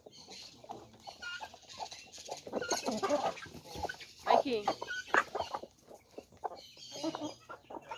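A showy hen clucks on a farm in Brazil, repeated close clucks and squawks mixed with other fowl, while people talk in Portuguese over the birds.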